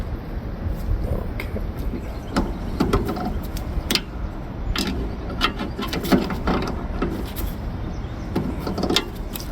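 Wrenches tighten a swivel elbow fitting on the hose reel of an asphalt sealing unit, giving irregular metallic clicks and scrapes over a steady mechanical hum, fairly close.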